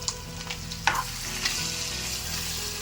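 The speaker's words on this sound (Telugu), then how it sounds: "ఆ తర్వాత స్మూత్గా గ్రైండ్ చేసిన పేస్ట్ని మొత్తం కర్రీలో వేసి బాగా మిక్స్ చేసుకోవాలి." Ground paste stirred into a frying Hyderabadi chilli chicken curry gives a continuous close sizzle, with a sharp scrape of the spoon near the middle and lighter stirring taps around it. No one speaks.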